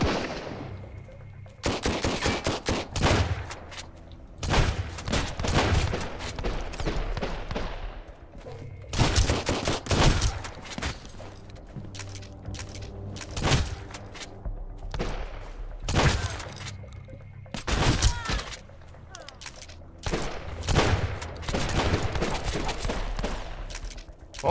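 Grenade launcher and other weapons firing in the survival game Sunkenland: loud, dense bursts of gunfire in repeated volleys separated by short lulls, heavy and close throughout.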